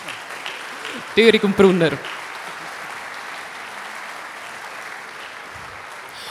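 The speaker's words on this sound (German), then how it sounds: "Zuerst aber einen grossen Applaus für den Urs und den Urs" An audience applauds at the opening of the Wiga 2023 event. Broad, even clapping continues through the whole stretch, and an announcer's voice cuts in briefly near the start.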